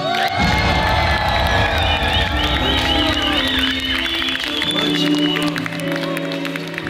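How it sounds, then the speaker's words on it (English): Concert crowd in Brussels cheering, whooping and shouting loudly, a sustained roar of many voices with high excited yells rising over it, then easing slightly near the end. "Brussels, let me hear y'all make some noise."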